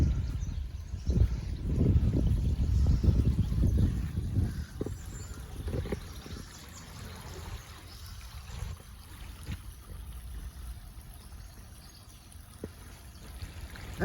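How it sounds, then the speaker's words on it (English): A babbling brook flows and trickles beneath a small footbridge in a historic mining town, a steady watery rush that is fuller at first and then settles to a softer burble, with no voices. "You could just listen to that babbling brook."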